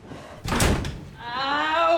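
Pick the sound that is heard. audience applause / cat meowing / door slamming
door slamming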